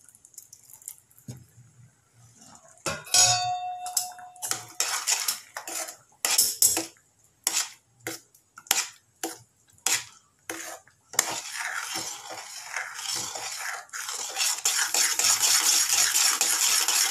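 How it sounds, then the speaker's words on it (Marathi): Rava upma cooking in a pan is stirred and turned with a metal spoon that clinks and scrapes against the pan in loud, irregular strokes, followed by a steadier soft sizzle toward the end, with no voices. "आणि व्यवस्थित परतवून घेणार."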